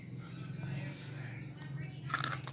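Pets crunch a puffed rice snack close by, with quiet repeated crunching and chewing against a low steady hum and a brief louder crackle near the end.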